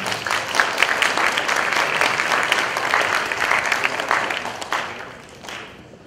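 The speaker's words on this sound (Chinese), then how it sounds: "那我们一起掌声欢迎我们今天的贵宾王文祥教授" Audience applause fills a lecture hall in a sustained, even burst of clapping that welcomes guest professor Wang Wenxiang, a Hongshan culture scholar, then thins out toward the end.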